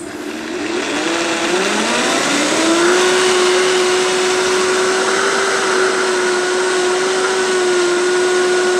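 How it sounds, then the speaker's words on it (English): Vitamix blender blitzing cacio e pepe sauce, the motor whining up to speed and settling into a loud, steady high drone that runs close and uninterrupted. "I'm using a Vitamix because I quite like it. And then we're gonna start blitzing it."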